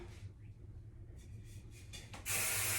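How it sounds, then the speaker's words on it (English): An aerosol can of hairspray sprays onto styled hair in a loud hiss burst near the end, after quiet rustling and faint handling noises. "A little hairspray."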